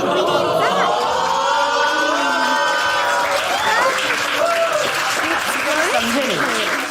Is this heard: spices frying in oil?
no